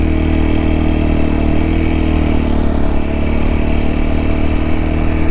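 A Bajaj Pulsar NS 200 or TVS Apache RTR 200 4V motorcycle engine drones loud and steady while climbing a hill, with a constant mid-pitched hum and no talking.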